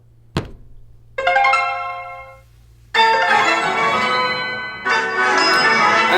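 Clash Royale game audio plays from a OnePlus 7T or iPhone 11: a sharp thunk, then bright chiming bell-like tones, followed by fuller ringing musical stings that sustain.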